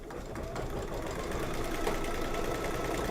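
An embroidery machine stitching down a design on a garden flag runs at a steady, rapid mechanical whir, loud and continuous with an even rhythmic needle chatter throughout.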